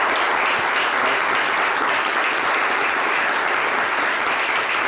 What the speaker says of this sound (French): Si vous êtes d'accord avec moi, applaudissez s'il vous plaît.